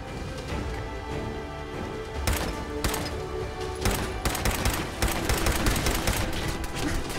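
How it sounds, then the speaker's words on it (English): Automatic turret gunfire in the video game Fallout 4, sustained rapid bursts with sharp loud cracks that intensify toward the end, no voices. "It is a turret."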